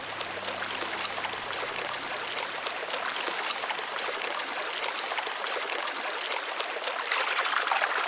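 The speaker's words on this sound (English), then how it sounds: "there are still a few places where water manages to flow" A small winter stream trickles and flows steadily in the cold, a continuous close bright rush of water running unbroken with no voices present.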